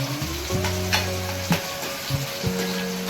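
Tomatoes frying with onions in a pan, a steady sizzle with several sharp utensil clinks and scrapes scattered across it, close and alone with no talk.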